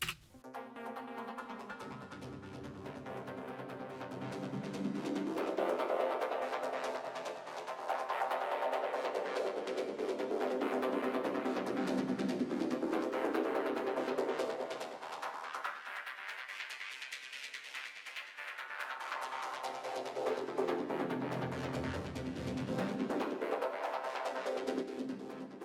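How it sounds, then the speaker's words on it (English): A Zebra synthesizer plays a steady pulsing tone while its filters sweep slowly up and down, the timbre brightening and darkening in broad waves for about 25 seconds. "hear me out with these filters sweeping up and down"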